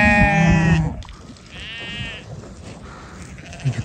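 A ram bleats loudly and close by at a livestock breeding farm, one long wavering call followed by a shorter, fainter bleat amid background farmyard noise.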